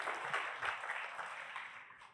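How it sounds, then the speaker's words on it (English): Audience applause at a conference event: dense, steady clapping from a crowd filling the whole stretch, fairly distant and even, fading slightly toward the end. "Huge round of applause, ladies and gentlemen."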